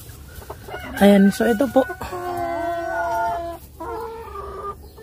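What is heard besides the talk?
hen clucking, Rhode Island Red chicken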